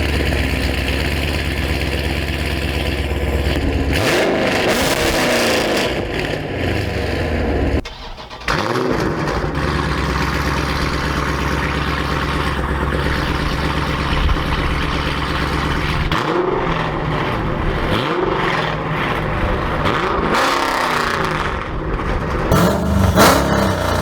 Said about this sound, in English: So I am going to include a few exhaust clips of how that sounds.